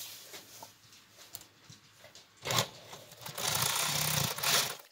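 A sewing machine stitches pieces of a scrappy paper-pieced crazy quilt, with soft handling of fabric first, then two bursts of close mechanical whirring, the second longer and steady; no talking.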